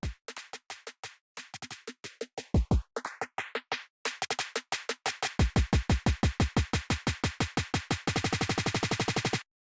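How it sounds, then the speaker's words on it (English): A busy electronic drum loop for a hyperpop beat, built in FL Studio under a low-pass filter whose cutoff sweeps open, goes from muffled to bright, with rapid hits and booming kicks speeding into a dense buzzing roll. "I throw in this drum loop that comes in gradually using filter automation."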